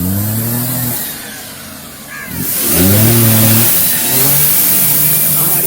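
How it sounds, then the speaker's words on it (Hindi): A car engine revs with rising and falling pitch as the accelerator is pressed, a loud steady drone after a brief lull, heard up close. "अरे एक्सीलेटर दीजिए ना।"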